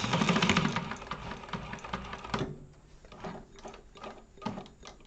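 A sewing machine runs fast while back stitching a fabric wallet, a loud steady mechanical whir that stops abruptly midway, followed by quieter intermittent stitching bursts and faint handling clicks.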